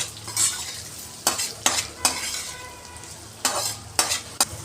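Boiled potatoes with green chili sauté in hot oil for sabudana khichadi: a steady close sizzle broken by several sharp spatula scrapes and knocks against the pan, no talking.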